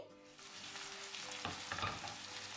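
Drumstick pieces frying in a covered pan on a low flame, a steady sizzle with soft stirring or shifting noises toward the end, no voices.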